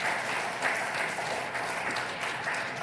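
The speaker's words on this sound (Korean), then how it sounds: "박수로 함께 모실까요?" Steady applause from a church congregation at a Sunday worship service, dense and even throughout with no voices over it.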